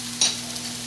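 Seasoned rice mixture stirred in a frying pan, a brief close scrape over a steady soft sizzle and hum.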